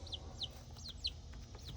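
Chickens and young chicks in a backyard coop cluck and peep in short, repeated high calls over a constant low hum, fairly close.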